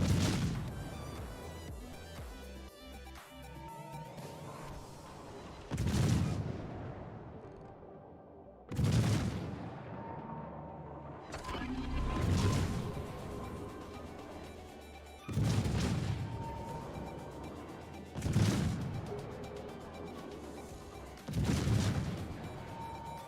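Naval guns firing from ships in the World of Warships game, featuring the Tier IX American cruiser USS Seattle: a series of about six heavy booming salvos spaced several seconds apart, each with a rumbling tail, without talk.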